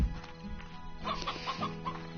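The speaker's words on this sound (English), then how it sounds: "I'm just gonna let these hens do their thing. There's a rooster over there" A rooster and hens cluck in the video game Slime Rancher, a short run of close, rhythmic clucks repeating several times over a faint background.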